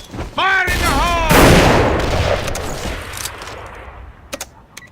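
Gunfire and a grenade blast in the AVA online shooter, loud and close: a burst of shots gives way to a broad explosive roar that decays over a few seconds, with sharp shot cracks near the end. A voice is heard briefly at the start.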